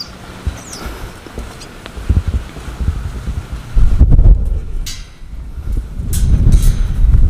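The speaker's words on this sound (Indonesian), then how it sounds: "anginnya kencang banget" Strong wind buffets a microphone outdoors at a lakeside hilltop cafe, low rumbling gusts that come and go and grow heavier in the second half, with no voices.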